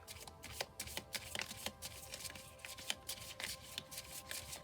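A Wisdom oracle card deck is shuffled by hand at close range, a crisp run of riffling and cutting flutters with irregular bursts, with no talk.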